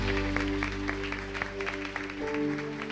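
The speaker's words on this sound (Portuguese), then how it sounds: "E vamos aplaudir o nosso Deus" A church congregation applauds during a Sunday communion service, a steady wash of many hands clapping over sustained organ or keyboard chords, with music dominating and the clapping moderately loud throughout.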